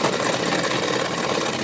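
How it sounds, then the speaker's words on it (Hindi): A sewing machine runs steadily while stitching the hem of a salwar, a continuous close, loud mechanical whirr with a fast even rhythm and no talking. "हम यहाँ से सिलाई लगाएंगे।"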